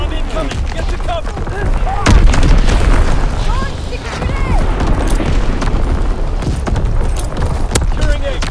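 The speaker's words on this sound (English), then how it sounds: "Incoming enemy artillery." Incoming enemy artillery in a Call of Duty WWII online Domination match: heavy booms and scattered bursts over constant battlefield noise, one especially strong blast near the start, with voices talking throughout.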